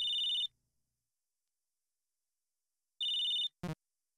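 A telephone rings inside a video game: two short, bright electronic ring bursts about two and a half seconds apart, the second cut off by a brief click.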